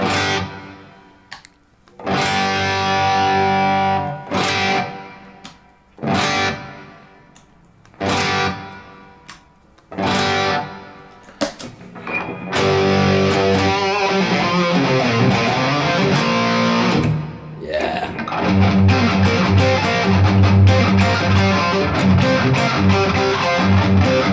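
Electric guitar played through a Caline CP-20 Crazy Cacti overdrive/boost pedal: chopped, stop-start overdriven chords at first, then sustained, continuous driven riffing, loud and close with no talking.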